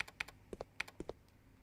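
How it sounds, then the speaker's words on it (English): Sparse, light taps on a computer keyboard in a video game, about a dozen quiet clicks in an uneven rhythm with short pauses, heard alone without talk. "I can hear someone tapping on a keyboard out here."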